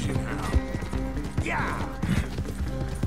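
Horse hooves clip-clopping in the western video game Red Dead Redemption 2, a steady close trot of hoofbeats with creaking tack and a brief whinny, a voice faintly under it.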